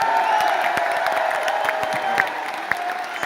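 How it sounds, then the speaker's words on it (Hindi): A crowd claps steadily at an RCM anniversary motivational speech event in Delhi, with scattered sharp claps and a few faint cheers over a busy background hum. "तालियां"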